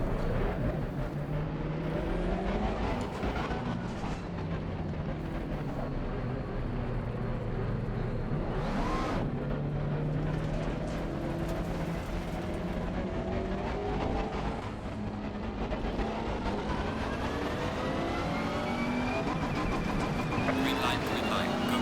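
A race car engine in Assetto Corsa Competizione at Zolder drones steadily and rises and falls in pitch as it shifts through gears, continuous and close, with someone talking over it throughout.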